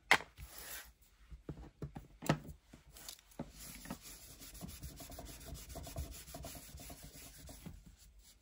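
A junk journal surface is roughened by hand, giving quiet, close scratchy rubbing strokes in an irregular rhythm, with a few sharper knocks near the start and no talking.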